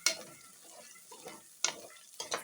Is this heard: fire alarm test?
no